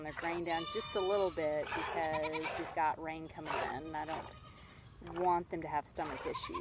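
Young Nigerian Dwarf goat kids bleat and cry repeatedly in the background on a farm, their high, wavering calls overlapping as someone talks over them nearby.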